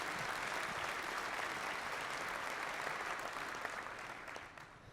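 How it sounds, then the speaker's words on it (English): Crowd applause at a college winter commencement ceremony, a steady dense roar of many hands clapping in a large hall, fading near the end. "Let's give them a round of applause, too."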